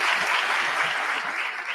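An audience at a university freshman convocation claps steadily, a dense, even wash of applause filling the hall without pause.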